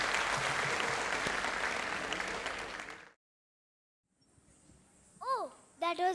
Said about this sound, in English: Please give a warm round of applause to all the dancers who came and who did that for you